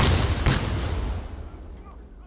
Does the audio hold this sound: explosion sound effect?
yes